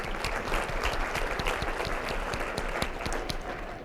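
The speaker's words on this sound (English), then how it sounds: "Let's applaud the people with the best memories." An audience at a health innovations workplace forum presentation claps steadily, with dense applause filling the whole moment at an even loudness.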